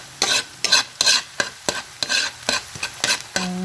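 Chopped chorizo sautés in a pan for veggie fried rice, stirred in quick repeated scrapes with a steady close sizzle between strokes.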